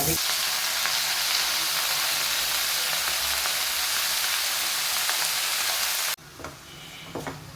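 Mustard seeds, green chillies, half an onion and two garlic cloves frying in a pan, with a loud, dense, steady sizzle that cuts off abruptly near the end, followed by a few quieter clatters.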